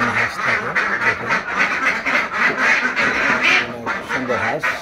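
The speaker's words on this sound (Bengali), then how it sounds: "সুন্দর হাঁস, খাকি ক্যাম্বেল জাতের হাঁস, খুব ভালো হাঁস" Khaki Campbell ducks quack near their house in a loud, close, continuous chorus of overlapping nasal calls, with a voice faintly mixed in under the flock.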